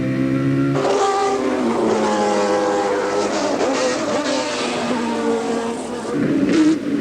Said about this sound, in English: You can hear his engine. Listen.